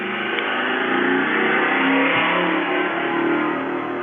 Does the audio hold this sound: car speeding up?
yes